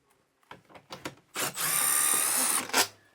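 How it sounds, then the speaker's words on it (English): Power drill fitted with a 5/16 socket removing bolts from an RV air conditioner: a few clicks and taps, then a steady, close, high whirring spin of about a second that ends with a short bump. "I'm going to be using a 5/16 socket to remove our bolts."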